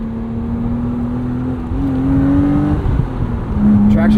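A 1999 BMW Z3 M Roadster's engine drones at steady revs through a corner, its tone dipping and shifting briefly as traction control cuts in, then picking up again under road and wind noise.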